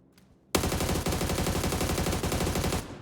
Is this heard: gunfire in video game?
yes